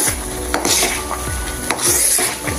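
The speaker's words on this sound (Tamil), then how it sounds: "கைவிடாமல் கிளறிக்கிட்டே இருந்து சட்டியில் அடியில் பிடிக்காத அளவுக்கு கொஞ்சம் கனமான பாத்திரமாக வச்சுக்கிறோங்க" Semolina halwa is being stirred in a heavy pan with a steady scraping rhythm, roughly two strokes a second, close and fairly loud over a soft sizzling hiss, with no voices.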